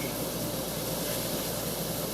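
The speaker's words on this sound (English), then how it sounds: "And then we're going to steam it to oblivion" Food being steamed to melt cheese produces a steady, loud, unbroken hiss of water and steam with no pauses or talking.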